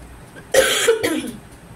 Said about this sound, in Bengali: ভীষণ কাশি হয়েছে